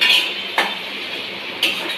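Kitchen pots and dishes clanking during home cooking, with a couple of sharp clinks standing out over a steady clatter and running-water-like hiss, fairly close and with no talking.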